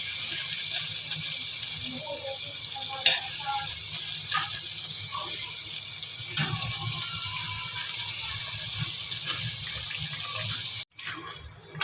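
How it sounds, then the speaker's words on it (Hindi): Potato pakora deep-frying in hot oil, a steady broadband hiss and crackle running close and even throughout, with a few sharper pops and a brief break near the end. "ये देखिए गाइस, मैंने इसमें फ्राई कर रही हूँ"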